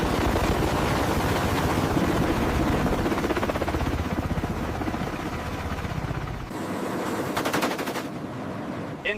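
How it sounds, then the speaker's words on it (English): Tiltrotor aircraft engines and rotors during Marine combat drills off Brazil's coast make a loud, steady, close roar with a rapid pulsing beat that thins slightly partway through and then continues. "The tiltrotor capability allows the aircraft to quickly convert from ground-ready to airborne in moments, ensuring operational speed."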